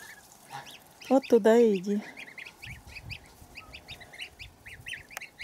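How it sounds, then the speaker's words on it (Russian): Large domestic geese honk in a loud cluster of harsh, rising calls for about a second, then fall quiet, with a person speaking briefly nearby and faint birdsong in the background. "Большие гуси что-то загоношились"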